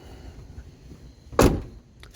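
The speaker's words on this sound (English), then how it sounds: "Sounds just like a Ford door." Door of a bullnose Ford truck shutting once with a single solid thump amid quiet background.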